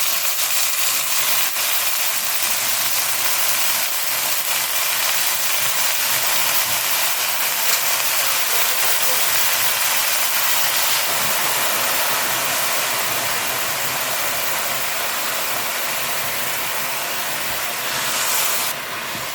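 Chopped arai keerai (amaranth greens) hit a hot pan for thokku, giving a loud, steady hissing sizzle that holds evenly throughout with no talking.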